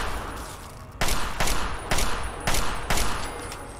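Gunfire in the video game Fallout 3: five loud, evenly spaced shots ring out over a steady background hum, with no talking.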